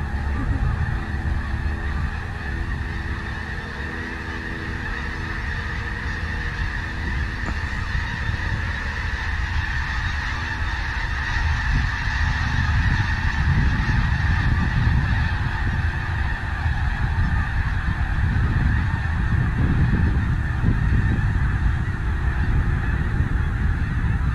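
A large flock of geese honking continuously at a distance, a dense, overlapping chorus that stays steady throughout.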